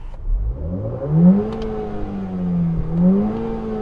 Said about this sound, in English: let's have a listen to the sound of these newer cars